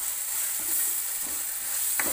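Fenugreek leaves with boiled toor dal are stirred in a pan during home cooking, a soft, even sizzle with a few faint scraping stirs.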